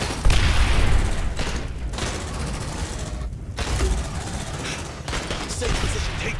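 Gunfire in the sci-fi squad video game Aliens: Dark Descent, a loud, continuous fusillade of rapid bursts and booms filling the whole stretch with barely a pause.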